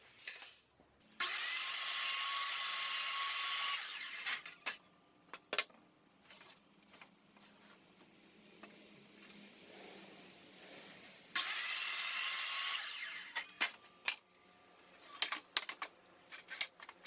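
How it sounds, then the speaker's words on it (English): Power saw cutting boards to rough size in a woodshop, two loud sustained cuts of about three seconds each, separated by quieter handling knocks and shop noise. "I'm gonna cut all the boards to rough size."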